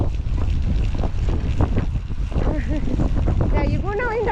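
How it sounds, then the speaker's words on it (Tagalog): Very strong wind buffeting outdoors, a loud continuous roar and rumble of gusts battering the microphone, with people talking underneath. "sobrang mahangin."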